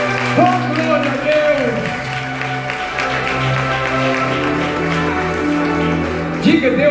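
A church congregation applauding in a Portuguese-language worship service, a dense wash of clapping that continues beneath a loud, sustained preaching voice.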